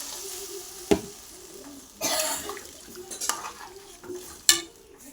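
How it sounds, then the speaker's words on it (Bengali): Water is added to a pan of fried spice paste for an aair fish curry, giving a soft sizzle broken by several sharp metallic clinks of a spoon against the pan and brief hissing bursts. "এবার জল দিয়ে দেবো।"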